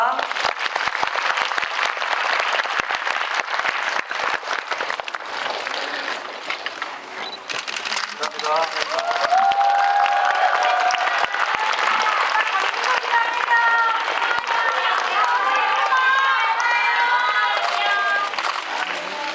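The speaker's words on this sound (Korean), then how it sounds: "오늘 참석해주시고 솔직하고 재미있는 답변해주신 분들께 다시 한번 박수 부탁드릴게요." A large audience at a film talk event bursts into sustained applause, with dense clapping filling the whole stretch. A voice speaks over it early on, and bright chirpy cheers or camera sounds rise toward the end.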